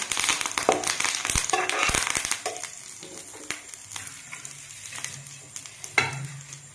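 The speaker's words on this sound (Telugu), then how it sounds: "ఇది కూడా ఎండుమిరగాయలతో పాటు వేయించుకోవాలి." Curry leaves frying with dried red chilies in a pan for hotel-style idli podi, with crackling sizzle, scattered pops and stirring scrapes, close and moderately loud, no talk.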